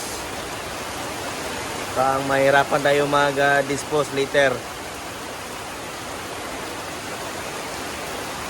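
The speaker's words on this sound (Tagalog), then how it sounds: "Lakas ng ulan mga boss." Heavy rain falls around a lechon roasting business as a constant, loud, hissing wash, with someone talking over it for a couple of seconds midway.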